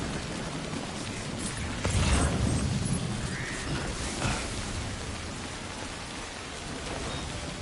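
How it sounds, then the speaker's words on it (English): Steady rain in the video game Death Stranding hisses continuously across the whole stretch, with a brief heavier low rumble partway through; no one talks. "The sound of rain and my air conditioning running is just like a double whammy on my senses."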